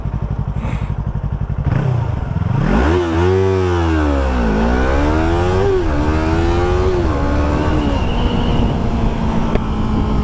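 Yamaha R3 motorcycle riding on a highway, its engine note rising and falling through revs and gear changes, loud and close with steady wind rush throughout.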